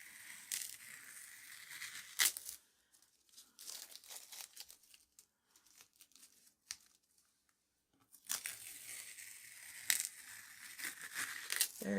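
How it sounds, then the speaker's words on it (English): Masking tape peeled off sheets of paper used for small abstract mixed-media paintings, heard as bursts of ripping and crinkling at the start and end, with a quieter stretch in between. "I think I'm going to try taking my tape off and see what we've got."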